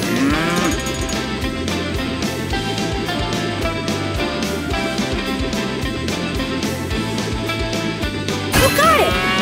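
Cartoon cows moo repeatedly in the PAW Patrol Rescue World mobile game, drawn-out lowing calls layered over a bouncy musical backing, with a bright rising effect near the end.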